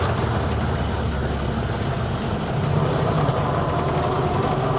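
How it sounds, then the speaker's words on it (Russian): A loud, steady engine roar with heavy low rumble and constant mechanical rattle, continuous throughout, heard from inside a vintage GAZ-AAA Polutorka truck while driving. "Тут слышно только шум мотора, и мы едем на полуторке."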